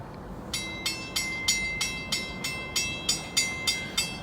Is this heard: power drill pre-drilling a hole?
no